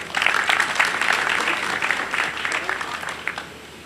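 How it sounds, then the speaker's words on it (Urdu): An audience at a gathering of a ceramics business group in Gujranwala claps enthusiastically, giving a dense, lively patter of many hands that stays strong for about three seconds before tapering off. "کے لیے بھرپور تالیاں بجائیں۔"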